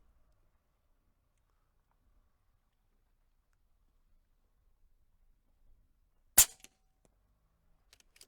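A single sharp crack from an AirMaks Arms Katran .25 airgun firing a heavy 34-grain pellet on an outdoor range at an airgun expo, loud and close, with a brief tail and near silence around it.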